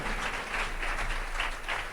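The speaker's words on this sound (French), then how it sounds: "Démosles un fuerte aplauso." Audience applause during a bilingual Spanish-French church talk, a steady wash of many hands clapping at moderate level for the whole stretch, with no voices over it.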